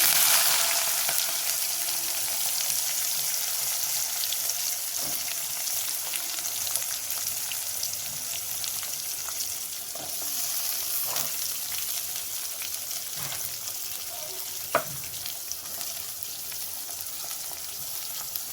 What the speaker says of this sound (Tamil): கட் பண்ணி வச்சு வெங்காயம் போட்டுக்கலாம்.